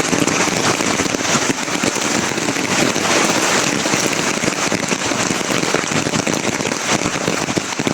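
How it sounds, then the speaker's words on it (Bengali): Heavy rain pours steadily during monsoon flooding, a dense, continuous hiss with crackling impacts from drops hitting surfaces, loud and unbroken throughout with no voices. "আজকে 2 দিনের বৃষ্টিতে সব ডুবে গেছে রে"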